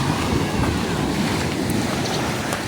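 Heavy surf roars continuously on a cloudy, rainy day at Santa Fe, Bantayan Island, blended with strong wind buffeting the microphone, a dense, loud wash of water with no clear pauses.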